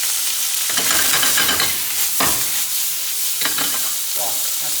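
Bacon sizzles in hot olive oil in a pan, a bright, steady crackling hiss with a few louder bursts as it is stirred, close and alone without talk.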